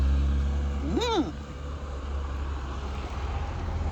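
Vehicles move along the road to Raigad fort during the Shivrajyabhishek celebration. A low traffic rumble runs steadily throughout, and a horn sweeps loudly past near the start, falling in pitch as it goes by.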